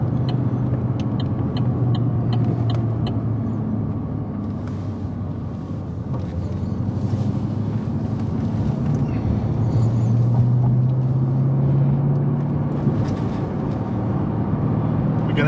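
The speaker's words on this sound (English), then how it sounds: "there's a nice bit of gentle burble" A Holden HSV GTS engine idles with a low, steady burble and some wind rumble, continuous and fairly close throughout.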